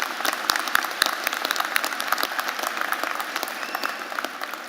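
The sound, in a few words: audience applause at a graduation ceremony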